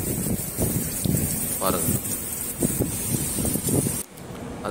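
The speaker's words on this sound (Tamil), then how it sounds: "சரியான மழை காற்று" Heavy rain and gusting wind lash a rocky shoreline where people fishing for giant trevally shelter on a rock, a steady broadband roar under someone speaking, with a brief drop and thud near the end.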